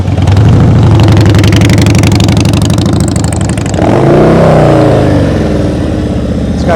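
Motorcycle engine revving at low speed during slow-speed riding practice, loud and close throughout, the pitch rising and falling as the throttle opens, with a sharper climb in revs partway through.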